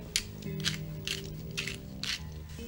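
Pepper being ground into an oxtail and prune stew sauce, a dry ratcheting mill crunching in four or five short bursts with brief pauses between, close and moderately loud over a low kitchen hum.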